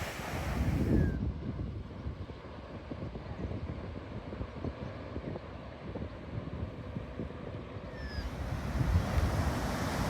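Surf rolls in at Alexander Bay beach on the Queensland coast, a continuous broadband wash of waves with steady wind buffeting the microphone, swelling slightly at the start and end, with no talking.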